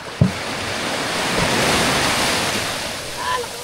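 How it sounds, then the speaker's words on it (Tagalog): Sea waves and surf washing steadily around a small fishing boat at sea, a broad rushing noise with wind buffeting the microphone and a brief knock near the start. "Alon."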